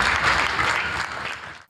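A congregation at a church deliverance service claps together: dense, loud, even applause that holds steady, then stops abruptly.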